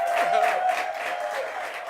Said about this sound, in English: Yes, a round of applause for him.